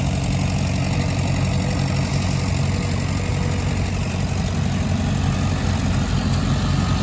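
Allis-Chalmers D10 tractor fitted with a loader idles steadily at a classic tractor show, a loud, even, continuous engine drone with no talking.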